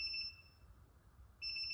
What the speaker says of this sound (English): I could do without this beeping